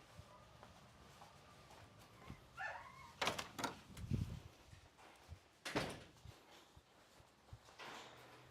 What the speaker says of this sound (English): Why are you guys barking?